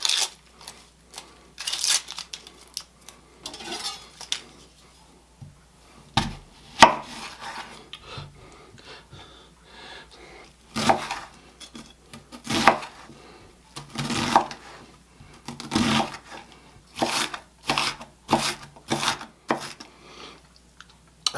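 A knife dices half of a small peeled onion on a cutting board, giving bursts of quick, crisp taps separated by short pauses, close and clear with no talking.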